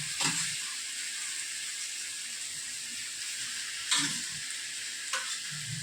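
Mini soybean chunks fry in a cooked spice masala, giving a steady close sizzle broken by a few sharp clanks and scrapes of a spoon stirring against the pan.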